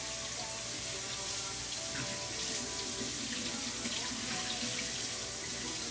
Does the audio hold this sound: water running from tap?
yes